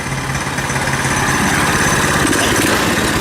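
A KT196 go kart engine fitted with a new Hipa carburetor runs steadily at idle after a cold start, a close, even buzzing putter with no speech over it.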